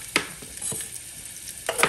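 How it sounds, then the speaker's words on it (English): Onion and peppers hit hot olive oil in a pan, giving a soft steady sizzle with a few brief stirring scrapes, close and alone. "we're going to add in our onion and peppers"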